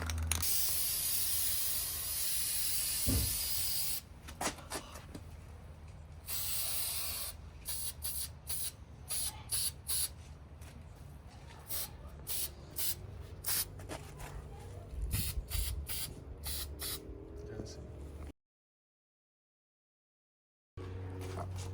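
Aerosol spray paint hissing in repeated short bursts as blue paint goes onto the brake calipers of a V6 Camaro, close and sharp, with brief pauses between sprays.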